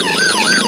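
A toy police car's electronic siren wailing loudly and up close, a brief wavering electronic sweep with no talk over it.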